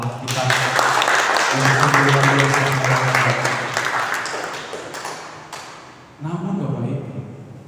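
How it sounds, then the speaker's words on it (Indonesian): A church congregation applauds during a Catholic service. Loud, dense clapping fills the room over a sustained tonal voice or music, then fades before a fresh swell of sound near the end. "Mari kita berikan tepuk tangan buat Allah kita."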